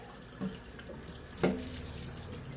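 Corn being washed under running tap water: a quiet, steady trickling stream broken by two brief splashes.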